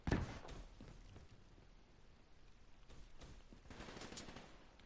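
Gunfire in a multiplayer shooter aimed at a wall, with a sharp loud burst at the start followed by a steady noisy bed of scattered shots and a second cluster of rapid fire near the end.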